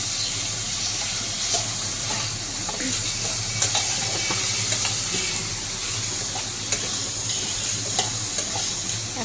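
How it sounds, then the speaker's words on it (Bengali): Potato and carrot pieces with a little turmeric fry in a pan, giving a steady, loud sizzle and hiss with occasional soft stirring clicks. "এখন ভালোভাবে ভেজে নেব আলু আর গাজর।"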